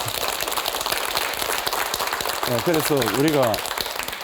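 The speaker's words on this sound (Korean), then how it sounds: "박수 한번 쳐주세요." An audience at a stomach-cancer medical lecture claps throughout, a dense spread of hand claps mixed with a man's speech.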